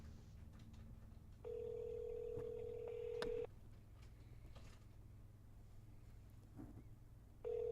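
Telephone ringback tone on a call to a senator's Washington, D.C. office, two long steady tone bursts separated by a pause, clear over a low background hum with no talk.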